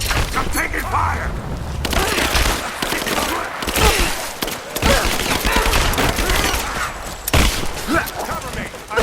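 Heavy gunfire in Rise of the Tomb Raider, with dense bursts of automatic shots and booming blasts through most of the scene, and shouted voices mixed in with the shooting.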